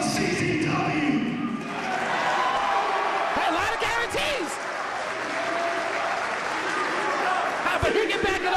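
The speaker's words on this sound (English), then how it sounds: "Listen to this crowd, John." Loud, continuous crowd cheering and applause fills a wrestling event arena, a dense wash of clapping and shouting with swells throughout, while a commentator's voice speaks over the noise.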